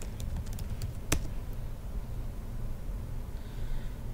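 Typing a search into an online shop on a computer keyboard, a quick run of close key clicks with one sharper press, over a low background hum.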